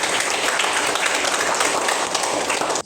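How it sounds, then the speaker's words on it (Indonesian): Students applaud together in a lecture setting, a dense, steady burst of many hands clapping for about three seconds before stopping abruptly. "Tepuk tangan untuk kita semua"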